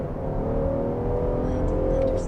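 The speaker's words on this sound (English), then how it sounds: "You can almost hear that supercharger whine slightly." A 2023 Land Rover Defender 130 First Edition engine is brake-torqued and revved, a steady close drone with a faint supercharger whine riding above it, holding level throughout.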